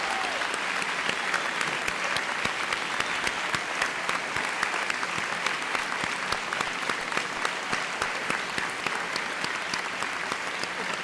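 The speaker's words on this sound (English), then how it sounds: "Please join me in a round of applause." A graduation ceremony audience gives sustained applause for graduates receiving scholarships and senior awards, with steady crowded clapping from a large hall lasting over ten seconds.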